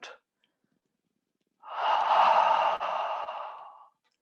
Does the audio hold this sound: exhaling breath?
yes